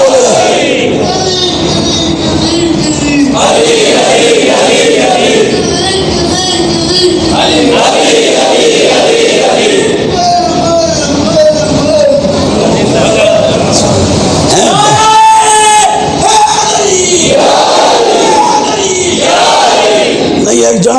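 A large crowd at an Imam Hussain religious conference chants slogans in loud, rhythmic waves of voices, rising and falling under a leading speaker's calls through a public address system.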